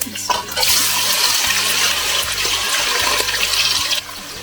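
Chopped onions hit hot oil in a pan and burst into a loud, steady sizzle right away. The rushing hiss holds for a few seconds, then eases down.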